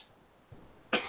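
A single sharp cough close to the microphone after a brief quiet moment and a soft throat sound.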